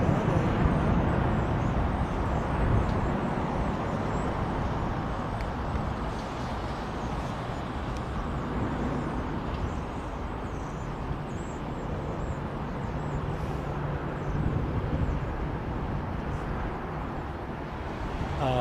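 A small ATR turboprop airliner at Heathrow produces a steady low broadband roar, moderately loud and continuous, with no voices over it.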